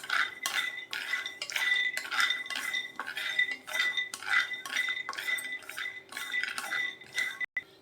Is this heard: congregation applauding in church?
no